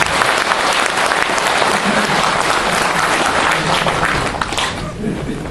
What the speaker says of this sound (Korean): 자축의 박수를